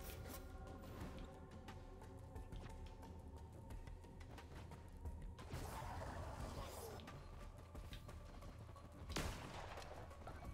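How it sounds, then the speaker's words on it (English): A cannon firing in the video game Cult of the Lamb, two sharp booming blasts several seconds apart over busy game music and effects, moderately loud. "A cannon!"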